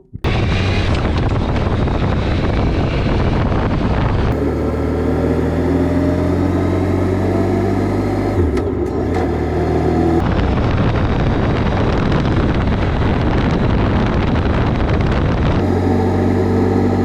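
Wind noise buffeting a GoPro camera mounted on a moving motorcycle, a loud continuous low roar with rumbling engine tones, the texture shifting abruptly between harsher and muffled stretches.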